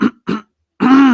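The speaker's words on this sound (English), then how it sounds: "I had to clear my throat when I talk about my boys." A man clears his throat in a few quick, close, loud rasps, two short bursts and then a longer gravelly one.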